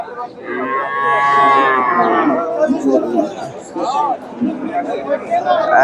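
A cow lets out a long, loud moo close by at the Chandaikona cattle market in Bangladesh, while people talk and chatter around it through the rest of the clip.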